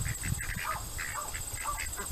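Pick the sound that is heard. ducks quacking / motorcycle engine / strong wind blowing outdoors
ducks quacking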